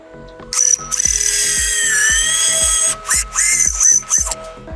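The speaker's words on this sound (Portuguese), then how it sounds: "Então a minha peça, a minha lateral do guarda-roupa, ela já está toda furada" Power drill boring holes with a jig into a wardrobe side panel, a loud high whine in long bursts with short breaks between holes, close, over a regular thumping rhythm in the background.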